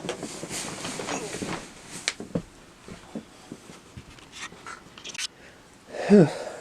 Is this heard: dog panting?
yes